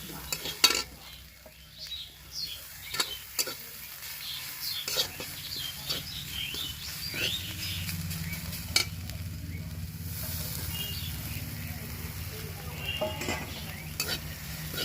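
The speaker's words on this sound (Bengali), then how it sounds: "শাকটা ভাজা ভাজা হয়ে গেছে, এবার আমি এর মধ্যে ছানাটা দিয়ে দেবো।" Radish greens and chhana stir-fried in a pan give irregular scraping and clinks of a spatula against the metal, with soft sizzling that thickens partway through and quiet voices now and then.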